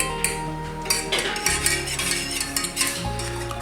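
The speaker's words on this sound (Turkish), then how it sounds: "Menegit şu an kaynıyor." A spoon stirs and scrapes inside a pot of boiling terebinth coffee, with light metallic clinks over a steady simmer, heard up close.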